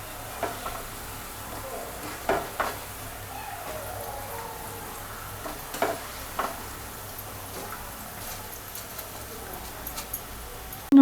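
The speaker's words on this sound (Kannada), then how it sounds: "ಹಾಫ್ ಬಾಯ್ಲ್ ಮಾಡ್ಕೊಂಡಿಟ್ಟಿರೋ ಆನಿಯನ್ ಪಕೋಡನ ಮತ್ತೆ ಸೆಕೆಂಡ್ ರೌಂಡ್ ಎಣ್ಣೆಗೆ ಹಾಕ್ತಾಯಿದ್ದೀವಿ" Half-fried onion pakoda going back into hot oil for a second frying, a steady soft sizzle with occasional clinks and stirring taps, close by.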